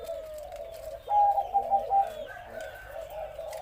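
Soft, low cooing from a spotted dove, a few deep hooted notes in a short three-note phrase, fairly close, with faint background chirps.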